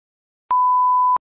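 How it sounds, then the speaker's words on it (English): A single censor beep sound effect from CapCut, a pure steady tone lasting under a second, starting and stopping abruptly against silence. "And here you can now hear the beep sound."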